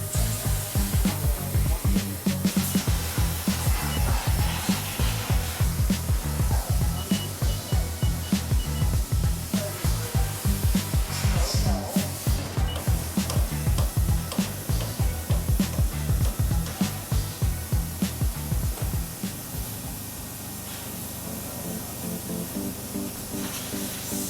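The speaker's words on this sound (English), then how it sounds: "And to clean it up with the chamfer tool." A CNC chamfer tool cuts a steel block, producing a loud, steady, rapid grinding chatter with coolant hiss that runs continuously before easing into a quieter whir at the end.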